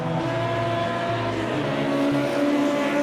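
Race cars on the Salvador Street Circuit in a racing video game, engines droning loud and steady with shifting pitch as they brake and power through, close and continuous, no talk.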